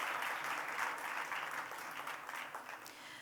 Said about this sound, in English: So please give them a round of applause for all that hard work they've done throughout.